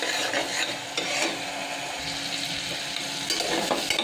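Masala spices fry in hot oil while being stirred, a steady close sizzle with scraping stir strokes throughout and no talking.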